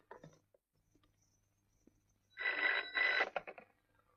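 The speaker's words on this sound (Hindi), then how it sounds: "ये तुम लोग फोन ठीक क्यों नहीं कराते? 1 घंटे बजती और बंद हो जाता है।" A faulty telephone rings in two short bursts near the end, loud and close, after a mostly quiet stretch.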